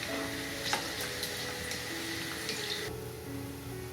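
Small-cut pieces of beef fat render into tallow in a pan, giving off a faint, steady sizzle with light stirring sounds and no voices.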